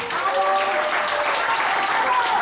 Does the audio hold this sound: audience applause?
yes